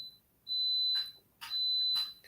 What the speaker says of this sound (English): I was wondering if our smoke alarm was going off